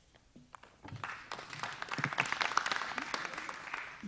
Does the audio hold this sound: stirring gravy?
no